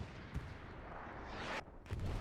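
Artillery shell fire in a video game, muffled booms and rumbling impacts with a sharp blast near the end, fairly quiet and distant-sounding, with no talk.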